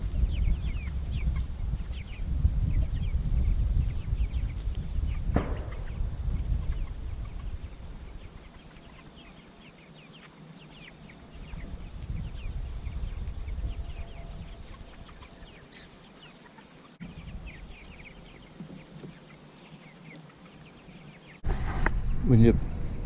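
Freedom Ranger and Cornish Cross meat chickens on pasture, a flock giving soft scattered clucks and chirps against outdoor background noise, with a voice speaking over parts of it.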